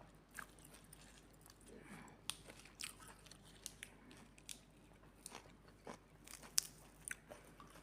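Close, crisp crunching and chewing of fresh raw vegetables eaten with grilled catfish, irregular bites and soft mouth sounds spread through the stretch with no talk.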